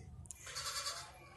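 A pink male goat for sale at a livestock market in Karachi bleats in a single drawn-out call close by, with low background rumble underneath.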